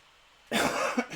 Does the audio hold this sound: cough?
yes